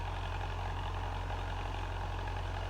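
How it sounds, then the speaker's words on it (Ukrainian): An MTZ-50 tractor engine idles with a steady low diesel rumble and even throb, heard close and constant with no voices. "А ми зараз будемо заводити трактор та будемо сіяти."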